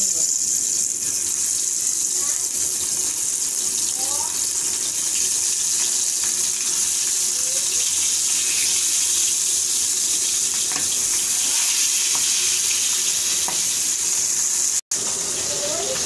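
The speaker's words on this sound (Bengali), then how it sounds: "মাছটা তো এখন আমি ভেজে নিচ্ছি" Fish fries in hot oil in a frying pan, a dense, loud, continuous hiss that holds steady throughout with one sharp break near the end.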